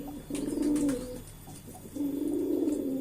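Racing pigeons coo nearby in two long, throaty, rolling phrases separated by a short pause, loud and clear with no talk over them.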